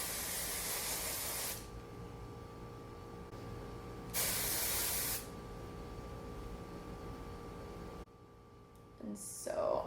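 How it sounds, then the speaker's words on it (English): Hairspray hisses onto freshly curled vintage-style glamour hair in two close, loud bursts, a longer one and then a shorter one, each with a sharp start and stop. "I'm going to hairspray with my working hairspray because I'm not finished"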